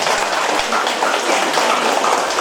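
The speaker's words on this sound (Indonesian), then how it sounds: "Tepuk tangan." A crowd at a gathering in the KORAMIL complex in Ruteng, Manggarai applauds in a dense, continuous burst of clapping, close and fairly loud throughout.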